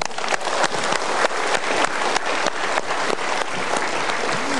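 Studio audience claps together at a motivational talk show, a brisk, fairly rhythmic burst of hand clapping at moderate loudness, steady throughout without voices.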